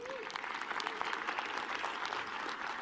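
A conference audience at a Microsoft Ignite talk breaks into steady applause, a dense wash of many hands clapping at moderate distance that runs through the whole stretch without pause.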